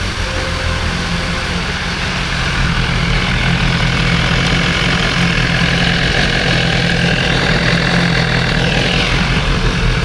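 A hot motorcycle engine idles steadily after warming up to temperature, its cooling fan running, with a constant close low rumble and no talk.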